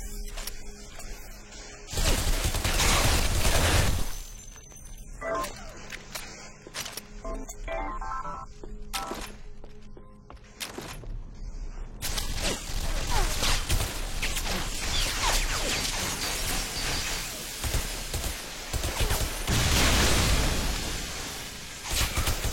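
Grenades burst in a video game with loud, sharp blasts in a crashing barrage, one heavy explosion early on followed by a long stretch of repeated detonations and clatter.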